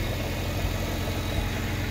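A supercharged BMW E46 M3 with an S54 engine idles steadily, a continuous low rumble heard up close with no talking.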